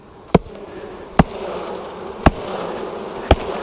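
Honey bees hum in a steady swarm around a swarm trap box, broken by four sharp, evenly spaced knocks as the box is shaken to dislodge them.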